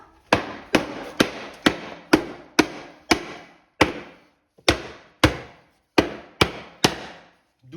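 Parquet flooring boards are being cut, giving about a dozen sharp, crisp snaps at a steady, slightly uneven pace. Each snap is close and decays quickly, and no voices are heard.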